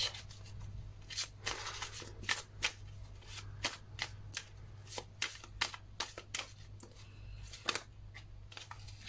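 Tarot cards are shuffled close by in a rapid series of crisp riffles and snaps over a low steady hum, with no talking.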